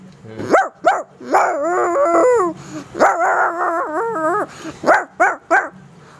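A young voice imitates a dog, giving a few sharp barks, then drawn-out wavering howls, then more quick barks, loud and close.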